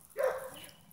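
A single short dog bark, fairly faint and slightly distant, in an otherwise quiet room.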